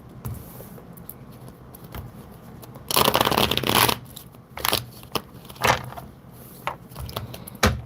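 Tarot cards being shuffled by hand: one long, dense riffling burst followed by several shorter, separate shuffles, close and fairly quiet.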